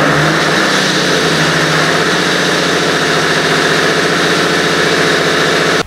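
Diesel generator set running after its fuel system and injectors were cleaned, a loud, steady, close mechanical drone with an even throb and no talking.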